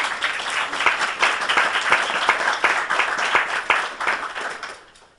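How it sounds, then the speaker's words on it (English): Enthusiastic applause from a crowd, dense clapping throughout that fades out at the end. "Can we give her a big round of applause, please?"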